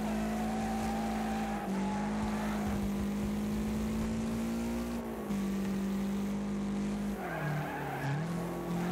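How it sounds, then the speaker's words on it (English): Racing car engines roar close by in Wreckfest, a loud steady drone with pitch rising and dipping through gear changes and tire skids as other cars close in from behind. "Cars on back there, coming up behind us."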